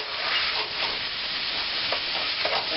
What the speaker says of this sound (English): Mix all that goodness together.